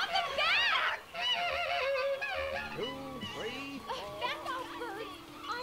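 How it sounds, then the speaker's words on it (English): Seagulls cry in the video game Broken Age, shrill bird calls and honking squawks overlapping near and loud, tangled with game sounds throughout. "Oh, the seagulls!"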